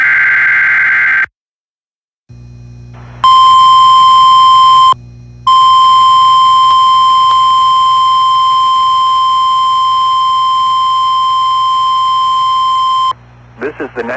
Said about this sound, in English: We have just activated the public warning alarm tone.